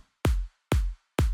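Progressive house kick drum layered with a bright clap, three punchy hits about half a second apart, each a deep thump topped by a sharp snappy crack with a short noisy tail.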